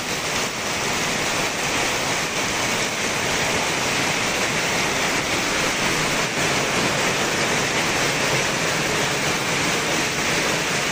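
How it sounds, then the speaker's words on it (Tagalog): Floodwater rushes across a flooded road as a loud, continuous broadband roar, steady and unbroken from start to finish with no voices. "Nagbaha na sa daan, ayun."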